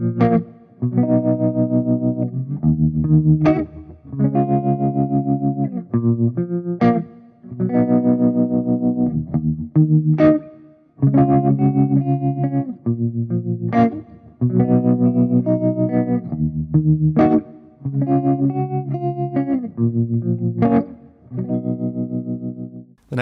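An electric guitar plays through the NeuronTube Tangie amp sim on its Fat Trim Clean preset. Loud chord phrases and picked notes sound with a chorus-like shimmer and light grit, in rhythmic bursts separated by short pauses, with no talk.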